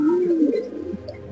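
A Kaldom pigeon gives a short, low, throaty coo, close and alone.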